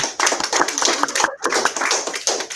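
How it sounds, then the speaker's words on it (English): An audience claps for a celebrity guest speaker at an event, a dense, steady patter of many hands filling the room at close range, with a brief dip partway through. "So let's give her a round of applause."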